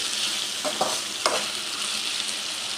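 Okra sizzles briskly in a pan with salt. A steady hiss of frying runs throughout, broken by a few short scraping stirs.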